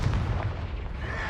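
The Expelliarmus spell cast in the Hogwarts Legacy video game lands as a dense, booming magical blast with rumbling low-end impact, loud and continuous over its short span.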